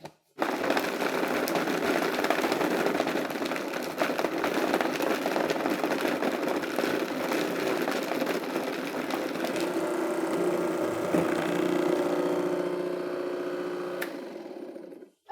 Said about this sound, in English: I'm going to put 2 cups of medjool dates in the base of my food processor, and I'm just going to process these until we have a really nice date paste